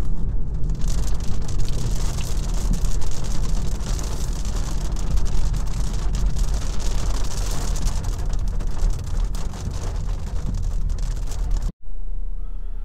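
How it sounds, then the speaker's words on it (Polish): Steady rain drums on a moving 2025 Kia Sportage with its 1.6 T-GDI engine, a dense, constant patter heard from inside the car and joined by road noise, then cut off abruptly near the end. "Ten deszcz nam nie był tutaj potrzebny."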